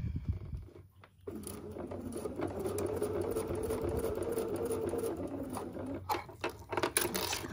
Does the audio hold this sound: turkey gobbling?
no